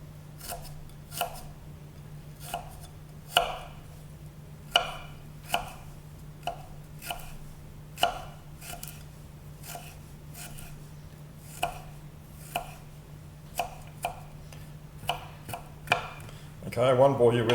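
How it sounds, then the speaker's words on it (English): A knife slices through four large garlic cloves on a board, giving a steady series of sharp, close taps and chops spaced about a second apart, with a faint hum underneath and a short burst of rustling at the end. "here I have 4 large cloves of garlic, and what I'll do now is I'll just slice them."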